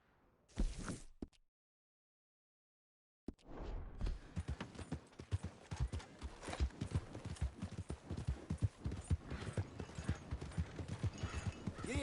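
Horse hooves clip-clop at a steady trot in Red Dead Redemption 2, starting after a short burst and brief silence, then running continuously and fairly close amid other game noise.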